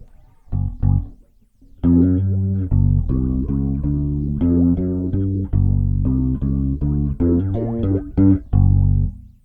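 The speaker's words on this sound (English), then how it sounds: "And you hear like that phasing that's happening back and forth." A bass guitar line through a virtual pedalboard chorus effect, notes wavering and swirling slightly as they sustain, played solo and fairly loud.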